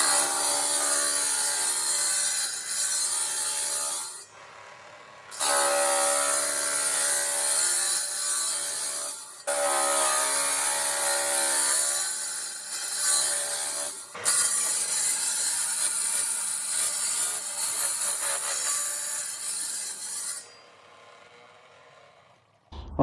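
A power cutter grinds steadily through porcelain tile for a feature wall, a loud continuous rasping whine broken by three short pauses before trailing off at the end.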